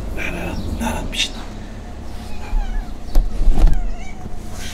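A neighbour's cat meowing nearby, a few short mews rising over low background noise while people talk and murmur in French.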